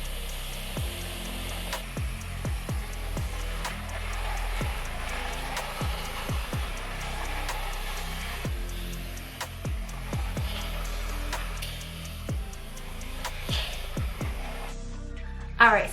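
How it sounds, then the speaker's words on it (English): A TYMO Hair Dryer 2.0 runs steadily while hair is blow-dried, giving a soft continuous whoosh. Repeated sharp clicks and taps rise above it. "Now I'm gonna go ahead and blow dry this part."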